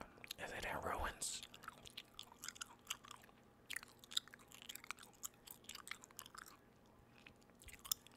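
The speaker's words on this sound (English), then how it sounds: "I'm chewing on Big Red gum." Big Red chewing gum being chewed close to the mic during Far Cry 5 gameplay, with soft, irregular wet smacks and clicks repeating throughout, a louder burst near the start, quiet game and controller sounds beneath.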